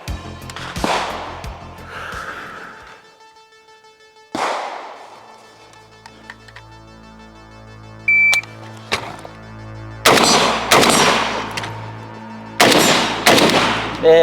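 Pistol shots during a timed shooting course of fire with an MMS and T2 mount, starting with sharp single reports and then fast, loud strings of close shots with echoes.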